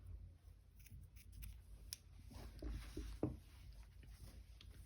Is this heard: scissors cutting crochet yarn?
yes